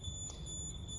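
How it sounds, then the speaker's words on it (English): An RD9100 radiation detector beeps steadily as static interferes with it, giving a continuous high electronic tone that is close and fairly loud with no one speaking. "the RD9100 will get affected by the static and it begins to beep again."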